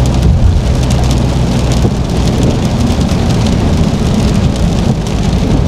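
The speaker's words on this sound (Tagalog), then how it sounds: "Nagkusog ang ulan." Heavy rain pours steadily in Davao City, a loud, dense, continuous hiss of drops drumming on surfaces with a low rumble underneath.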